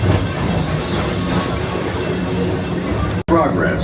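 A Magic Kingdom train rolls past on a rainy morning, a loud steady rumble and rattle of wheels on track that holds throughout and stops abruptly near the end.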